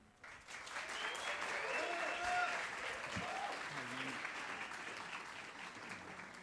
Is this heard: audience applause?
yes